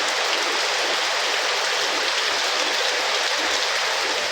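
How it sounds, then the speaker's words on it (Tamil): Steady, dense rain pours in Karaikudi, a constant hissing wash at close range with no breaks and no voices. "சிவகங்கை மாவட்டம் காரைக்குடியில் சுமார் 1 மணி நேரம் மழை பொழிந்தது."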